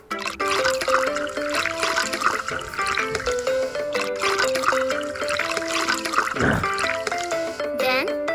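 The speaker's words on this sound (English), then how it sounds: "Please rinse the foam away with the water." Running water rinses foam off a puppy in a Libii pet care video game, a steady trickle under bright, busy game music with sound effects.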